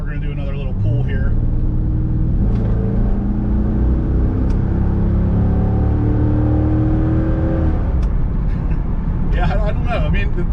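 A C5 Corvette with its LS1 V8 pulls hard under acceleration, a loud rising engine note climbing steadily through the revs with a brief shift break, heard from inside the car.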